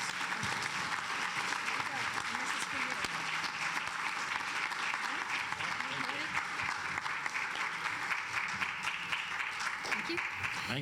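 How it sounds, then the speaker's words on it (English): Sustained applause from an audience at a club meeting about dredging, steady dense clapping heard from a distance, with faint murmuring voices beneath it. "So if you'll join me again in giving him a big round of applause."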